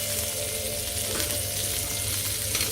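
Orange juice bubbles and sizzles in a hot pan with garlic and rosemary, deglazing just after the hob is switched off, a steady close crackling hiss running throughout.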